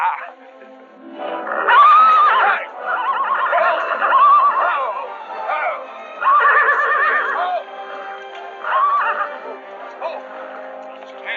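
A mare neighs several times, loud shrill whinnies rising and falling, separated by short gaps, close by and mostly on its own.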